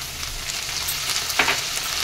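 Chopped potato, carrot and onion frying in a pan for soya pulao, a steady close sizzle throughout with a brief spatter burst near the middle.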